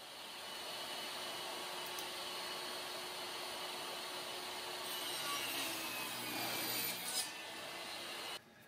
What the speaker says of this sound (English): Now on to cutting a few pieces of walnut into my thin strips